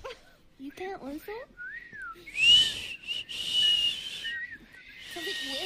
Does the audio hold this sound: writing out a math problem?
no